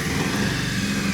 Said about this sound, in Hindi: एक बार इंजन को स्टार्ट कर लेते हैं।